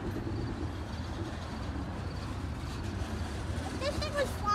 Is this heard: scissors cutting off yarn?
no